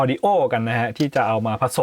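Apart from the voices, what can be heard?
No everyday noise stands out behind the speech.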